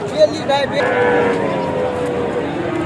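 Friesian bull calves at a cattle market in Joypurhat, with a couple of short moos early on amid busy market crowd noise and nearby talking.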